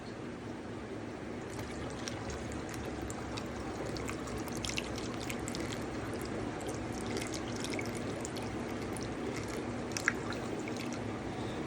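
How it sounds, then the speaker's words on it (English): Water poured into a DIY internal canister filter container, a steady close trickle with small splashing drips running continuously from start to finish. "I'll pour this one in here."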